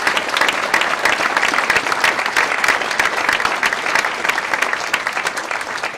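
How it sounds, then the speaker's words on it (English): Audience applause at a Rare Disease Day 2018 fundraising event fills the room: a dense, steady wash of many hands clapping, loud and sustained for several seconds without pause. "Let's give a round of applause to Michelle for that."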